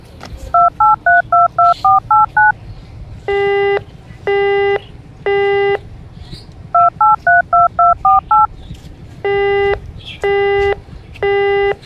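Telephone keypad tones sound close and loud, with runs of quick two-tone beeps alternating with longer evenly spaced tones, repeated twice over a faint room background.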